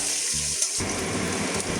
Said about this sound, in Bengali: রসুনটা একটু ভাজা করে নেবো হালকা।